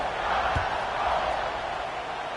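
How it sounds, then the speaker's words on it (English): Stadium crowd noise from a college football video game, a steady broad roar of many voices holding at an even level through the whole moment with no one speaking over it, and one brief low thump near the start. "this crowd now ready to get behind them"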